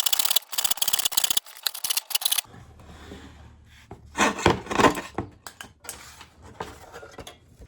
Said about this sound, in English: Do it back up again, and I can start sawing.